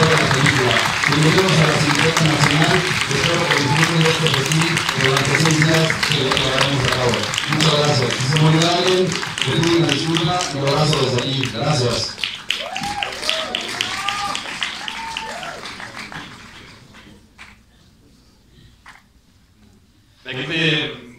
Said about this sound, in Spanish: me gustaría pedir un fuerte aplauso para Sergio Chozón